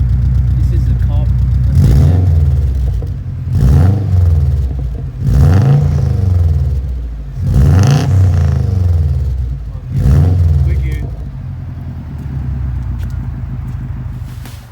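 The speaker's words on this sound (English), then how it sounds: "So this is the exhaust there in the Verano." Aftermarket eBay exhaust on a 2003 Subaru WRX revved five times in a row, each a loud, close throttle blip that rises and falls back to a deep, rumbling idle between pulses.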